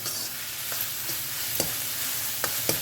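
Onions frying with a pinch of salt in a pan for dhaba-style dal fry give a steady close sizzle, with a few sharp clinks of a spoon stirring against the pan.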